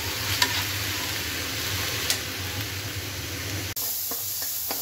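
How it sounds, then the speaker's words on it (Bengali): Spices sauté in a hot pan, giving a loud, continuous close sizzle broken by a few scraping stirs. The frying cuts off abruptly near the end, leaving quieter scattered clicks. "মশলাপাতি কষানো হয়ে গেছে, ধুয়ে রাখা শিং মাছটা দিয়ে দিই।"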